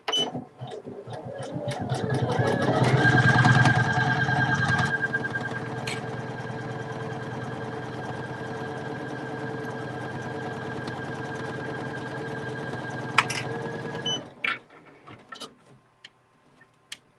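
An embroidery machine, a Poolin EOC06, stitches appliqué patches with a fast, even mechanical chatter that runs steadily, then cuts off near the end, followed by a few faint clicks.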